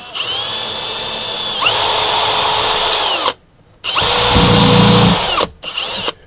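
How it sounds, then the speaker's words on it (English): A power drill pre-drills into cedar window trim in three bursts, the first long and rising in pitch, then a shorter burst and a brief final spin, loud and close. "So you pre-drill for the bit or for the screw"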